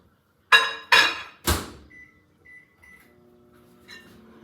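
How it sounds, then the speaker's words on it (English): A microwave oven melting three tablespoons of butter: three sharp thuds from the door and buttons, a few short electronic beeps, then a low steady hum as the oven runs. "I'm gonna get it melted in the microwave."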